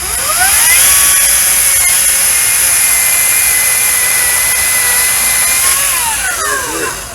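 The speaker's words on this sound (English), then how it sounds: "let's cut the other one real fast with the RYOBI" A small battery-powered RYOBI chainsaw cuts through wood in a steady, loud high-pitched whine, with the motor pitch dipping and rising as the chain bites, sounding close and alone for the whole cut.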